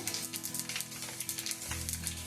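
Mustard seeds, cumin, urad dal and garlic sizzle in about half a litre of hot oil for a drumstick and tomato pickle, a close, crackling fry with rapid popping bursts and a brief stir, no talking.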